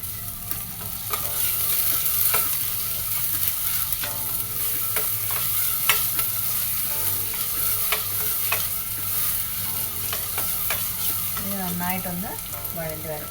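Onions sauté in a pan for Kashmiri yakhni pulao, a continuous close sizzle broken by repeated scraping stirs of a spoon, with a short squeaky scrape near the end.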